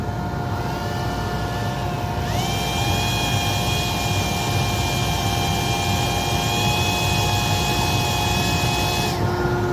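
A CNC dust collection system runs with its hose disconnected, giving a loud, steady broadband roar of moving air with a constant whine over it; the tone rises a step early on and drops back near the end.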